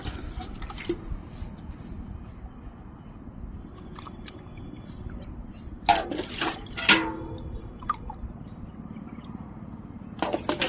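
Water is poured into a pot holding a yellow peony tuber, giving a few brief splashing gurgles midway and again at the end over a quiet background, with no talk.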